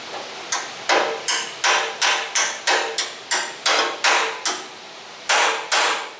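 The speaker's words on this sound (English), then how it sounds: "Need a hammer." A hammer strikes metal on a 1973 K10 truck, about a dozen sharp, loud blows spaced in an even rhythm with a brief pause before the last two.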